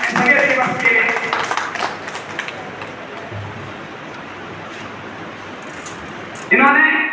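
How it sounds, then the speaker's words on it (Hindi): A crowd applauds achievers at an event with a dense, even wash of clapping that lasts several seconds, and someone speaks before and after it. "एक बार फिर से जोर से तालियां सभी अचीवर्स के लिए"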